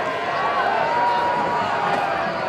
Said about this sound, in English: As I hear the crowd.